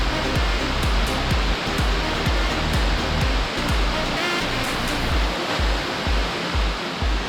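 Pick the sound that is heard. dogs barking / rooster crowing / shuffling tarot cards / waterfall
waterfall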